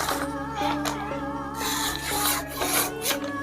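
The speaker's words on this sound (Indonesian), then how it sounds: "cuma digesek-gesek di kulit sejenak saja, dia sudah ketajaman kembali halus" A steel knife blade, Bohler K110 with a Tanrus handle, stroked back and forth on leather, giving repeated soft raspy rubbing passes close up over a steady low hum, with no voices.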